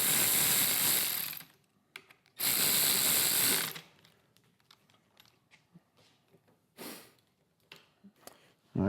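A ratchet snugs Torx 27 bolts at the front of the handlebar on a 2024-2026 Harley Street Glide. Two long, loud bursts of clicking are followed by lighter, scattered clicks and a short final burst, close up and with no talking.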